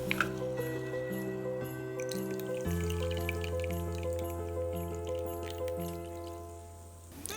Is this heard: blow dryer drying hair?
no